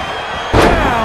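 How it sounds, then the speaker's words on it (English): A face buster slam in the wrestling game WWE 2K20, one loud, sudden thud that hits midway and leaves a bright, ringing wash of arena noise and crowd hanging after it. "Down with a face buster."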